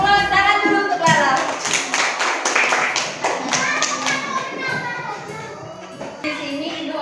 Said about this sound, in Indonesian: Tepuk tangan dulu untuk Lala.